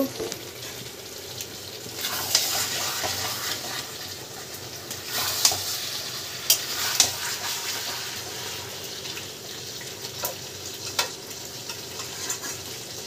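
Chicken kosha sautéing in a pan, a steady close sizzle of frying with watery bubbling, broken by sharp clacks of a stirring spoon against the pan every few seconds.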